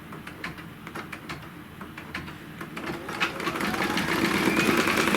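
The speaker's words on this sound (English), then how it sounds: "I'm just going to lay the fabric down on top of that, and it's going to stitch the tack down." A sewing machine stitches fabric down onto leather, starting with a slow, close run of rhythmic needle clicks before speeding into a louder, continuous mechanical whir.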